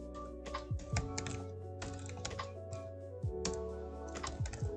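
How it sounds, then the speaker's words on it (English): Close computer keyboard typing in quick irregular bursts of clicking keystrokes, with brief pauses between runs, alone without speech over a low steady background hum. "Just type them here to make it much more easy."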